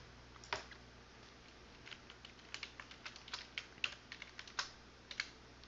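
Typing on a computer keyboard to enter a well name in groundwater modelling software, a quiet close run of irregular key clicks over a faint steady hum, without talk.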